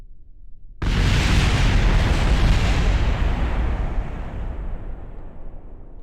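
A helicopter crashes and explodes in the video game Kerbal Space Program: one sudden loud blast, then a long roaring rumble that slowly fades across several seconds, with no voices.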